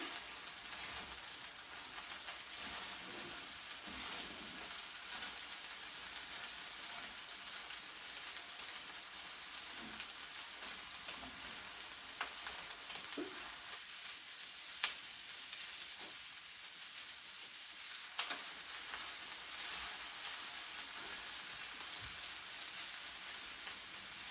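Scallop fried rice sizzles steadily in a pan on the gas stove as it is gently mixed, a continuous hiss of frying with occasional soft scrapes and taps from stirring, close and without talk.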